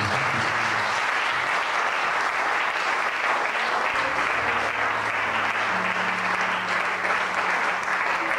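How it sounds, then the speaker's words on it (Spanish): A church congregation claps together in sustained, loud, dense applause that runs steadily throughout, with a low hum of voices beneath it. "Vamos a darle un aplauso al Señor Jesucristo."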